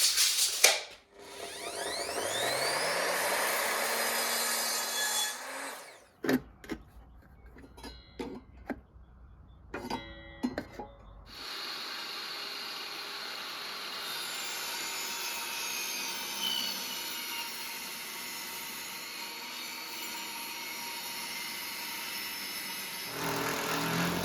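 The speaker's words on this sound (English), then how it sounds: "I will run them through the table saw so they're all exact." A table saw rips rough-cut timber joists to width, with a loud steady whine from the start, a quieter stretch of clattering handling noises in the middle, then a long sustained cutting drone.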